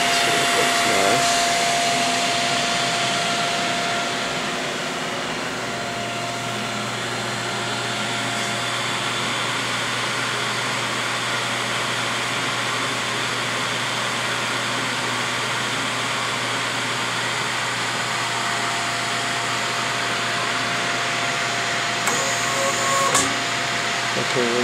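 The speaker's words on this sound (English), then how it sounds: "You hear the solenoid valve kick in." A Logitech 1WSB2 substrate bonder runs its vacuum bonding cycle, a steady mechanical hum and whir with constant tones, and a solenoid valve clicks in near the end.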